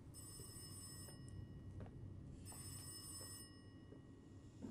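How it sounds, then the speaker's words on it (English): A telephone rings in the horror video game Rise of Insanity, two faint one-second bell trills a little more than a second apart under a low ambient drone. "Where is that stupid phone?"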